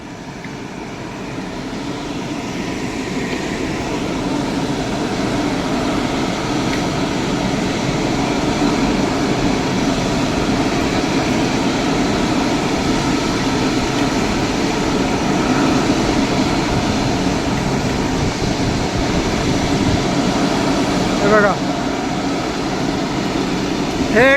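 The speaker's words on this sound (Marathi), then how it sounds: "तिकडनं एक एक हळूहळू पुढे येतात विमानं आणि इकडे येऊन मग रनवेवर टेक ऑफ करतात" A steady low drone of aircraft engines idling and rolling at an airport, constant and moderately loud throughout.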